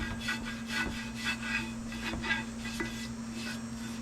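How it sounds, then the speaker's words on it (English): Stiff brush scrubbing rusty cast iron cleaned by electrolysis, giving rhythmic rasping strokes about twice a second, close and steady over a low constant hum. "I'm going to hit it with a brush here and just see what happens"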